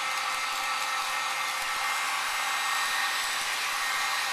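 Heat gun blowing steadily to shrink plastic wrap around an Easter basket, a constant close hiss with no pauses or talk.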